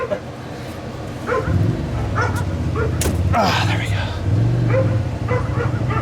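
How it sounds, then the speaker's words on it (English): A dog nearby barks and yips in short bursts beside a 2006 BMW 325i during a brake job. Someone speaks briefly between the barks. "dog that barks at anything that moves."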